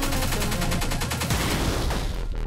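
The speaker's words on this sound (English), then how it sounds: "I should be running away from those explosions. Oh, more grenades." Grenade explosions and rapid weapon fire in the video game Pineapple Smash Crew form a dense, loud barrage of sharp blasts. The volley is continuous and crackling and ends abruptly, with no voices.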